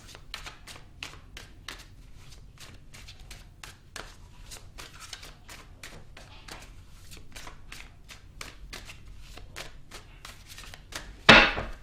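Tarot cards are shuffled in a close, quiet run of quick crisp riffling flicks that keep a steady rhythm, ending in a louder slap as the deck is squared.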